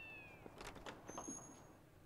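Cats meow in The Legend of Zelda: Twilight Princess HD game, a few short, faint mews overlapping one another against quiet background tones with high thin whistles.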